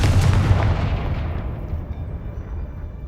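A Confringo fire spell blasting in the video game Hogwarts Legacy, a heavy booming burst that rolls off into a long fading rumble, loud and close.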